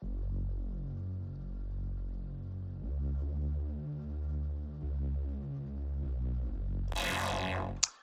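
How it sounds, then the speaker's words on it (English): A low, pulsing synth bass line plays repeating notes with a throbbing rhythm, up front and alone, ending with a brief noisy sweep. "now if we translate that to the bass line that I use for the track"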